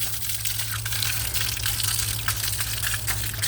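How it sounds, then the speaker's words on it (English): Rain and water pouring down outdoors on a rainy day make a dense, constant hiss, loud and near, with a low steady hum underneath and no voices. "The rain is starting to slow down."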